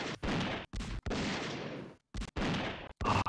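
Gunshot sound effect from Shadow the Hedgehog, reused in an FMV game: a run of loud, sharp bursts with brief silent gaps between them, close and alone with no talk.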